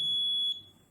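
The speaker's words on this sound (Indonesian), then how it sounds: "buzzer on" An Arduino-built fire detector's buzzer sounds a sharp, steady high-pitched piezo tone, loud and close, holding for about half a second before dropping slightly in level and continuing.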